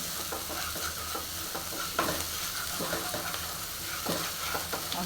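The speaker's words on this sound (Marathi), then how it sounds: "थोडीशी हळद घेतलेली ती थोडीशी वरून कोथिंबीर टाकते व्यवस्थित मिक्स करून घेते" Paneer masala gravy with turmeric and chopped coriander being stirred in a hot pan, a steady close sizzle with repeated scraping strokes of a spoon throughout, no talking.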